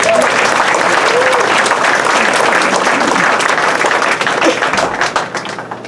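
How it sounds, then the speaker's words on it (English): Loud, sustained audience applause fills an alumni banquet hall, dense clapping from a large crowd that continues evenly before tapering off slightly near the end. "So let's give Cindy a round of applause."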